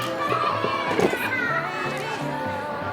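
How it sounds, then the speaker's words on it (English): Children play outside in a backyard in China, their mixed voices and chatter drifting in at moderate distance as a steady murmur over about three seconds. "You hear all the kids playing?"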